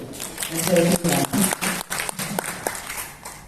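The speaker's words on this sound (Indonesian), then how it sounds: "Tepuk tangan dulu dong" Scattered applause from an audience at a construction forum in East Kalimantan, uneven bursts of clapping, mixed with voices and fading toward the end.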